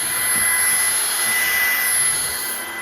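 A RYOBI 18V ONE+ cordless stick vacuum runs on carpet with a steady, loud, high-pitched whine and airy rush, continuous and close, with no talking.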